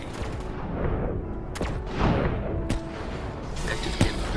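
Shots from a Man o' War assault rifle in the Black Ops 4 game ring out as a few sharp cracks scattered over continuous in-game battle noise, with no voices.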